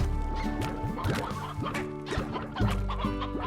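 Several chickens cluck and chatter in quick overlapping bursts in the video game Slime Rancher, with a synthetic, game-like tone and soft clattering in the background.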